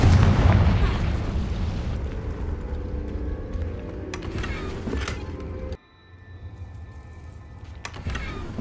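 A Confringo fire spell in Hogwarts Legacy bursts with a heavy boom and a crackling fiery rumble that fades, then cuts off; a second sharp burst hits near the end.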